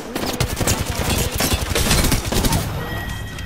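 Rapid bursts of automatic gunfire in a multiplayer shooter video game, loud and dense, with volleys crackling continuously for several seconds close up.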